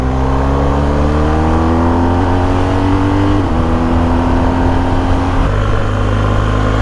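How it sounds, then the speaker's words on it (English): A BMW R 1250 GS motorcycle engine idles and rumbles steadily close by, its low rattling drone holding constant with slight shifts in pitch throughout. "I can definitely hear that engine rattling around, working away beneath me"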